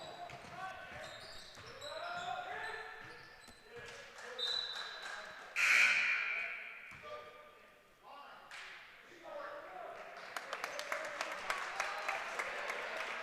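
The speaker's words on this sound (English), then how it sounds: "Draws a lot of applause here from the home cheering section" At a boys' high school basketball game, the home cheering section applauds amid gym noise, with ball bounces, shoe shuffles and a commentator talking over the crowd, and a rising patter of clapping toward the end.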